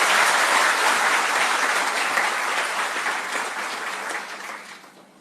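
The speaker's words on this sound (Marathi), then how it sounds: "जोरदार टाळ्या होऊ द्यात" An audience claps loudly and steadily in a dense burst of applause at a public gathering in honour of police personnel, then the applause tapers off and fades near the end.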